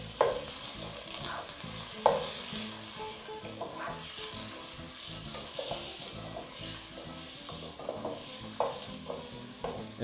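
Mutton for biryani stirred and browning in a hot pan over medium heat, a steady close sizzle and fry broken by periodic scraping knocks of a spoon against the pan, no talking.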